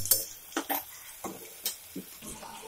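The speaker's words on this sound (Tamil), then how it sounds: "இது கூடவே காஷ்மீரி மிளகாய் தூளையும் மஞ்சள் தூளையும் சேர்த்து நல்லா கிளறி விட்டுருங்க" Mutton curry base with Kashmiri chili and turmeric powder stirred in a pot: several soft, separate scraping and clinking strokes of a spoon against the pan, close and fairly quiet, with a faint sizzle beneath.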